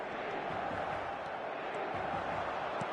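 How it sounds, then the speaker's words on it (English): A stadium crowd in the football video game eFootball 2024 keeps up a steady, dense roar, a broad wash of noise throughout with faint scattered thuds. "Crowd appreciates good football all round there."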